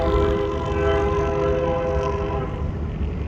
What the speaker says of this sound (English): That's a red, white, and blue train out there being pulled by a single UP engine.